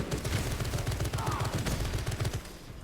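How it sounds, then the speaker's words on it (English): A servo gun fires in rapid automatic bursts in Space Marine 2, a dense close rattle of shots under a voice. "Let the servo gun do its job."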